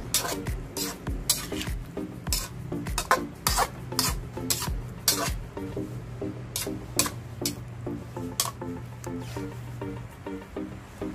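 Hotdog and tofu with oyster sauce stirred in a pan, a utensil scraping and clinking against the metal in a steady irregular rhythm over a low sizzle, close and moderately loud.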